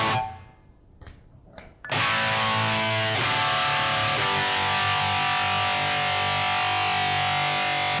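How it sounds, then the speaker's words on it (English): Electric guitar on an amp's overdrive channel playing a lead tone: a few quiet picked notes, then loud distorted chords ringing out with long sustain and fresh strums, no voices. "Now I'm going to step on the overdrive channel, so this will be more of a lead guitar sound."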